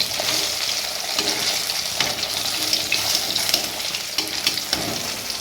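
A fish head frying in hot oil, turned over and over, gives a steady, dense sizzle with crackling spatter throughout, close and fairly loud with no voices.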